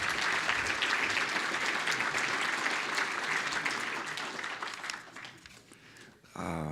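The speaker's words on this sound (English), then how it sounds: "Nice round of applause" A large audience at a legislative briefing breaks into sustained applause that fills the room, holding strong for several seconds before thinning out, with a few cheers mixed in.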